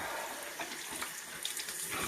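Tap water running steadily while a dog's paws are washed, a close continuous gush with small splashing changes, no speech.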